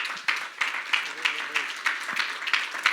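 A church congregation claps in a steady, roughly regular rhythm, moderately loud and close, with scattered voices faintly underneath.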